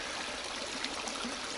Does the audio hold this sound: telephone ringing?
no